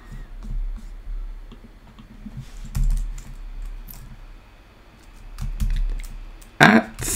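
Typing on a computer keyboard while writing SwiftUI code, sparse soft key taps spread across the stretch, with a brief louder clatter of keystrokes near the end.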